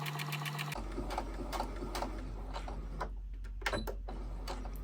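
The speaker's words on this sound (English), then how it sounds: "So I'm going to start sewing." A sewing machine stitching a seam with a 5/8 inch seam allowance hums steadily and close up, its needle ticking in a fast, even rhythm that continues without a break.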